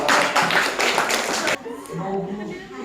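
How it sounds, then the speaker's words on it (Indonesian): Schoolchildren in a classroom clap their hands together in a short burst of rhythmic, close claps that stops abruptly, followed by quiet room sound with faint voices. "Tepuk tangan dulu."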